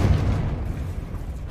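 Confringo fire spell explosion in the Hogwarts Legacy video game, a deep low boom with rumbling tail, steady and close, no talk.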